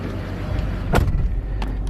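A 2007 Duramax diesel pickup with about 129,000 miles rumbles low and steady as a test drive begins, with a brief thump partway through and the engine droning close and continuous.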